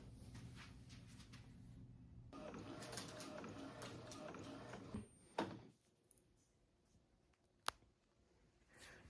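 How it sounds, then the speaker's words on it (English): An inkjet-style printer feeds and prints bookmarks on premium matte paper, a mid-level mechanical whir and rattle for a few seconds, followed by quieter clicks and a sharp snap near the end. "Now we're gonna hit print and let it print."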